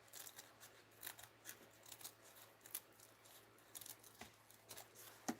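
Scissors snipping paper for junk journaling, a quiet series of crisp close cuts in an irregular rhythm, repeated many times with no talking.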